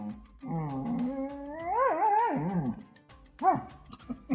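A dog whimpering in long rising and falling whines, then letting out a short yip and a couple of quick barks, fairly close and alone.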